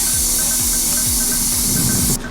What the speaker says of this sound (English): We're going to spray it on there so that there's like a coat, an even coat of rubber over the whole thing